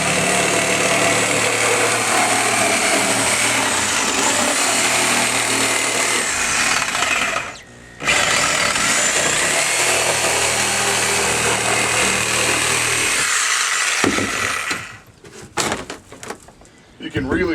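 A Sawzall reciprocating saw cuts through a wooden stringer in a Sea Ray 220 BR boat during restoration. The buzzing is loud and close, drops out briefly once, and ends in sputtering bursts.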